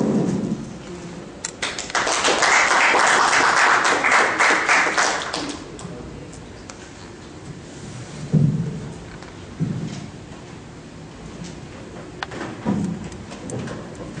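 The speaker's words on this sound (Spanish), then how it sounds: "Lo recibimos con un fuerte aplauso." An audience at a formal lecture gives a burst of applause that swells for a few seconds and fades, followed by scattered thumps and light handling noises in the room.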